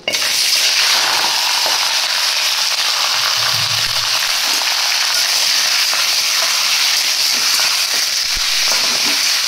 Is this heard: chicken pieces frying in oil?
yes